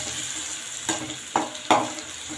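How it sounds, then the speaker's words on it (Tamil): Ground paste with fenugreek and curry leaves is stirred in a hot pan while making horse gram rasam. A soft, steady sizzle runs throughout, broken by three distinct scraping stirs, close and clear, with no talking. "இந்த பேஸ்ட் ஆட் பண்ணிவிட்டு அரைச்சி வச்ச பேஸ்ட் ஆட் பண்ணிவிட்டு லைட்டாக கிண்டிக்கலாம்."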